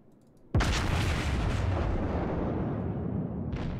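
Warship guns firing in the naval video game World of Warships, aboard the battleship South Carolina: a single sudden loud boom followed by a long rumbling decay, with faint game ambience before and after.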